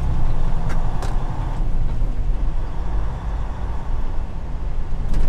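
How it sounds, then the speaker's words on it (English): Heavy truck traffic rumbling steadily on a highway around a trucker's cab, a broad continuous low roar with a few brief higher clanks, loud and close throughout. "I can't believe the truck behind me took that turn."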